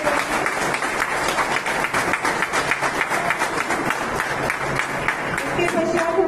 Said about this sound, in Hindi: सभी तालियां बजा के